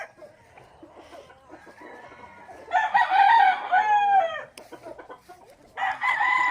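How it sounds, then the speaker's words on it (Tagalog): Gamefarm roosters at Seapower Gamefarm in San Jose, San Isidro, Leyte crowing, two loud nearby crows with softer clucks and distant birds between them. "Tingnan natin yung mga manok"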